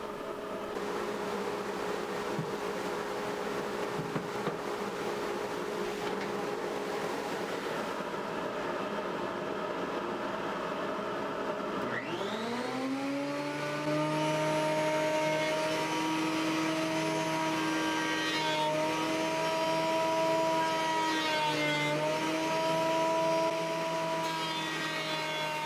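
Craftsman benchtop planer motor spinning up and running steadily as it planes a piece of wood, a loud close whine with strong harmonic tones that holds for several seconds with no talking.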